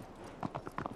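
Horse hooves sound in Shadow of the Colossus, a run of quick, soft clip-clops in the second half over a low ambient bed. The steps are faint and fairly close.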